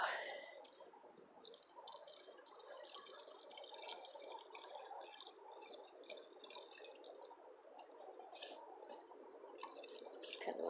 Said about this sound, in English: Just kind of rinsing off the outside of the bottle there.